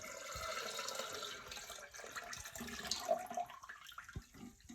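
Sugar syrup pours into water in a fermenter while homemade sugar mash is being made, a soft, close trickling and splashing stream with faint drips, with no talk.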